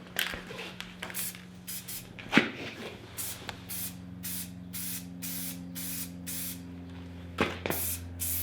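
A spray can hisses in repeated short bursts as the first coat of paint goes onto a primed Honda Grom subcage, the blasts close and rhythmic over a low background hum.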